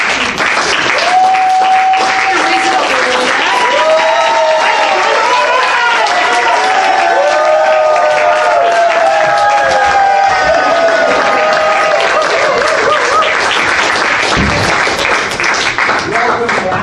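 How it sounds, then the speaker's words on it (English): A student show audience applauds and cheers for the performers, a steady dense wash of clapping lasting the whole stretch, with voices and crowd noise mixed in. "let's give them a little round of applause"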